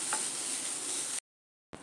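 Grated coconut dry-roasting in a pan for poha laddu, a soft continuous hiss with faint scraping stirs, cutting out briefly before resuming.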